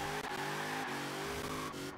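A Mosler supercar engine in Forza Horizon 4, revving loudly and steadily with a sustained high-pitched whine and brief dips as the throttle shifts.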